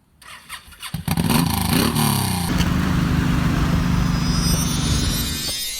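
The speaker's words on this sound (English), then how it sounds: "I'm about to ride the M109R." Suzuki M109R motorcycle engine starting and revving up close, a sputtering catch followed by a loud, steady rumbling idle that holds on alone without talk.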